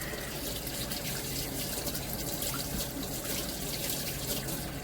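Water runs steadily from a kitchen tap, a constant hissing splash that is close and fairly loud, with no talking.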